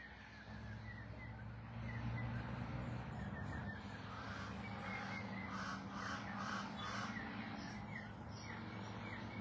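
Crows caw outdoors in a quiet setting, a few hoarse calls sounding faint and somewhat distant over a low background rumble.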